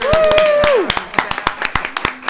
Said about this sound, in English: Can we clap for him just because we love him?